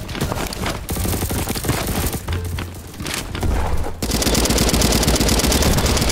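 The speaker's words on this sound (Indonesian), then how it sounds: "Awas ni kita tembak." Gunfire in the Bad Business video game, dense rapid bursts of shots crackling throughout, loud and close, turning into a continuous roaring barrage in the final seconds.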